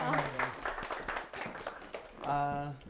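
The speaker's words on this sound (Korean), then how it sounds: "도와주신 우리 민요 아나운서님에게 큰 박수 부탁드립니다" Scattered clapping from an audience at a lecture show with a magician comes through beneath a person speaking, with the talk dominating throughout.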